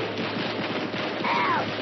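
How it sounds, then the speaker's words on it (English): Cartoon chestnuts pop in a fire as a dense crackling burst of small snaps, with a brief whistling tone rising and falling near the end, loud and close. "The fire's popping the nuts."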